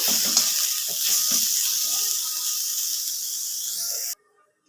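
Filling ingredients with grated ginger frying in a pan for a snack made from flour, giving a steady close sizzle with a few stirring scrapes that cuts off abruptly near the end.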